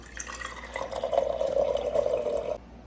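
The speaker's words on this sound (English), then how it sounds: "press the button, and let your water come out" Water runs steadily from an Avalon A12 countertop bottleless water cooler's room-temperature tap for about two seconds, a close, even pouring stream that stops abruptly.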